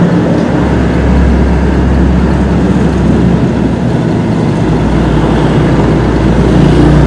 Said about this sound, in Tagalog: Oop, naunahan tayong truck